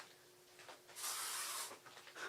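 A spray can hisses in one sustained burst of about three-quarters of a second, aimed at a fly, sitting alone in a quiet room with a few faint softer puffs around it.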